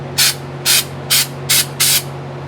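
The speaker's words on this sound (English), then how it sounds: "I have, of course, sprayed the undercoating material on top of the seam sealer, just like Jerry Heasley did" Five short, evenly spaced bursts of spray gun hiss as undercoating is applied over seam sealer inside a 1969 Ford Mustang Mach 1 body, each about a quarter second, over a steady low hum.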